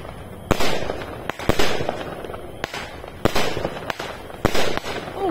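A Red Star firework battery of 16 shots, 20 mm calibre, fires a sequence of sharp, loud launches at irregular intervals, each followed by crackling bursts, heard outdoors with no talking.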